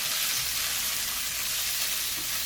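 Onions, scallions and sweet peppers seasoned with salt and black pepper sautéing in a pan, a steady close sizzle with a faint occasional stir, with no talking.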